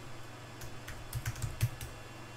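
A password is typed on a computer keyboard, a short burst of quiet, close keystrokes with several sharper clicks clustered near the middle.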